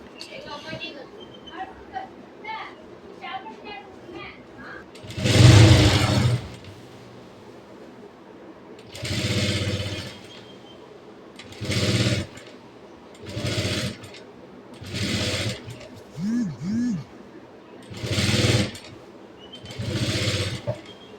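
Bursts of a sewing machine stitching the sleeves of a short kurti top, about eight separate runs of a second or so each, close and fairly loud, with a voice talking quietly between them.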